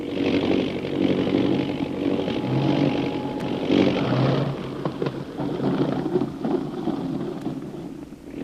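An aircraft descends for a landing with a steady, loud engine drone that holds throughout, rising and falling slightly in intensity with a rough, buzzing texture and some wind rush.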